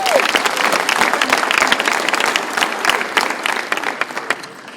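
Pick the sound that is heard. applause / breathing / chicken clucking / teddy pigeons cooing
applause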